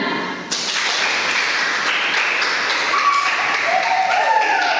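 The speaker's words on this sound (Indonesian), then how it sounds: "tepuk tangan" A dense burst of applause from a classroom group, steady and fairly loud, with a faint voice or tone rising near the end.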